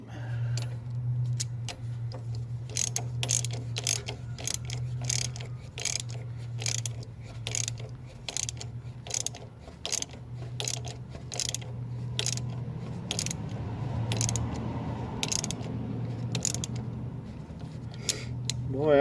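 A hand ratchet clicks in fast, steady bursts while snugging bolts back in during an engine timing chain repair, with a low steady hum underneath and a brief voice.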